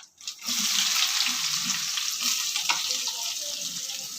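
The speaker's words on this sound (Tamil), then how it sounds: "இப்போ பொரிஞ்ச உடனே வெங்காயம் போடுறோம்." Onion dropped into hot oil already crackling with cumin and pepper for an oil brinjal kuzhambu, giving a steady, close hiss and sizzle that swells after a brief quiet start and holds loud throughout.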